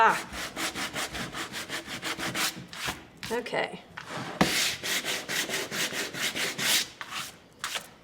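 Rapid back-and-forth sanding strokes with a block, steady rhythmic rasping that pauses briefly midway, with a single short spoken word.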